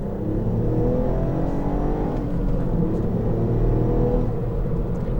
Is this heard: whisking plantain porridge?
no